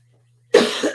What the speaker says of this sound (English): I'm dealing with a bit of a cough